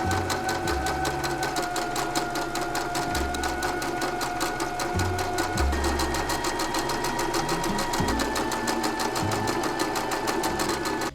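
A sewing machine hemming fabric runs in several stitching bursts, with brief pauses and direction changes for backstitching, its motor whirring and needle clattering steadily and close up.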